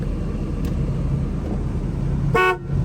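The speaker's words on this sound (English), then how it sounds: "Horn works." Short single honk from the horn of a 1986 GMC Caballero, loud and close over a steady idling engine rumble near the end.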